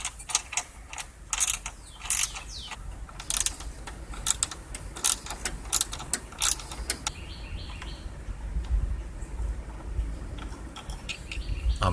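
A ratchet wrench loosens the 10mm bolts holding the fuel pump to its mounting bracket on a 2017 John Deere LA110 lawn tractor, with rapid bursts of close clicking, short pauses and faint metallic handling in between.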